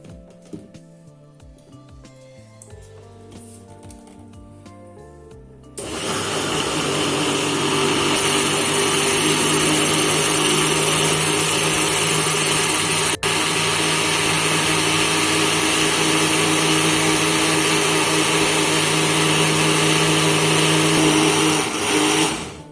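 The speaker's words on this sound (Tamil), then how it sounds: "இதை நம்ம மிக்ஸில அரைச்சிடலாம்" A mixer grinder starts abruptly and runs steadily at high speed blending an Oreo milkshake, a loud, constant whirring drone that continues for several seconds before cutting off.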